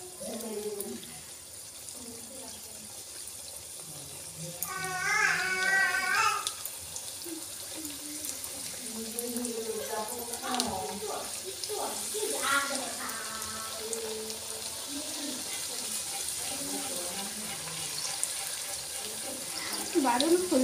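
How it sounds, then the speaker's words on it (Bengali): Homemade Bengali fuchka (golgappa) puris sizzle and bubble in hot oil, with a steady crackling hiss that runs throughout, while faint voices sound in the background. "এবার তেলটা গরম করে ফুচকাগুলো দিয়ে দেব।"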